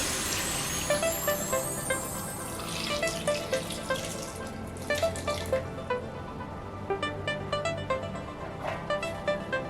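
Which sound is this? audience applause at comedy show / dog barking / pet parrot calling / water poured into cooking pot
water poured into cooking pot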